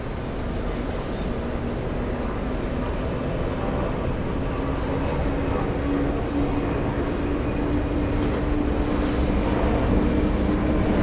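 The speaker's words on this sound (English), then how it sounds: "Swiss Air on its way in." A Swiss Air airliner on approach to JFK airport makes a steady, loud jet engine roar that holds evenly throughout, with no voices.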